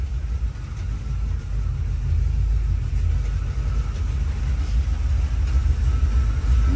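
A GM Performance crate 350 V8 idles steadily at low rpm after a cold start, a deep continuous rumble that stays even and fairly loud with no talking over it.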